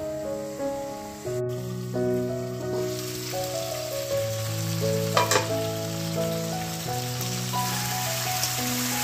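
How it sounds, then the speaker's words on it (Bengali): Chicken fries with spices in a pan, a broad crackling sizzle running continuously under steady melodic music, with a brief sharp clatter midway. "আমি এরকম করে এটা আবার 5 মিনিট মতো ভেজে নেব এই মশলার সঙ্গে ঢেকে ঢেকে।"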